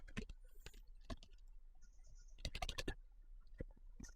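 Typing on a computer keyboard: a quiet, irregular run of individual key clicks and short bursts of rapid taps, with a brief pause in the middle, close up and alone.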